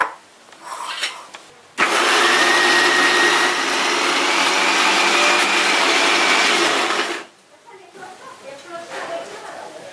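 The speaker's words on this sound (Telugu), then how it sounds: "మిక్సీ పట్టుకోవాలి." A mixer grinder grinds black-eyed peas with ginger, green chillies and salt, roaring loudly and steadily for about five seconds before cutting off, with quieter kitchen sounds on either side.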